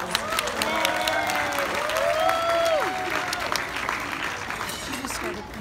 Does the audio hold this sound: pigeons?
no